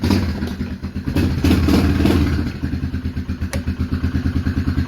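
A Polaris Magnum 425 ATV engine fires and catches after cranking. A few sputters and thumps build into a rough, loud idle with a clear rhythmic pulse.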